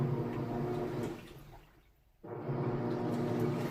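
A four-year-old Samsung HE top-load washer agitates on quick wash, a steady low churning and sloshing of water that dips briefly and surges back, moderately quiet.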